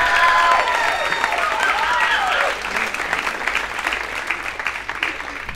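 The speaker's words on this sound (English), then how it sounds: "You guys are clapping and cheering like Trump got impeached this morning." A large comedy club audience applauds and cheers loudly for a comedian taking the stage, dense continuous clapping with whoops, easing slightly after a few seconds but still sustained.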